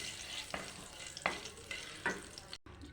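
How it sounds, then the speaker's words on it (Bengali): Whole cumin seeds frying in oil previously used to fry fish, giving a steady, close crackling sizzle broken by a few louder stirring scrapes before a short silence near the end. "আর গোটা জিরে ফোড়ন দিয়ে দিলাম"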